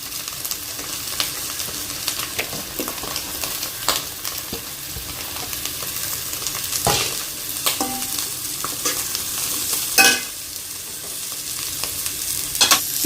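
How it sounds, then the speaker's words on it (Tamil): Shredded cabbage and carrot stir-fried in a pan for egg fried rice: a continuous loud sizzle, with repeated scraping and clattering of a spatula as the vegetables are tossed, close up and without speech. "இப்போ நம்ம இந்த கோஸையும் கேரட்டையும் சேர்த்து நல்லா வதக்கிப்போம்."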